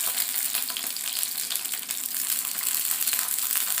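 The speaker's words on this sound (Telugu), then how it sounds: "చిప్పట్మంటున్నాయండి వంకాయలు." Brinjal pieces fry in a pan, a steady bright crackling sizzle with water droplets spitting, close and continuous without talk.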